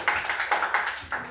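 A class of first-grade schoolchildren claps hands together, six or so quick, sharp claps in an uneven rhythm over a brief moment.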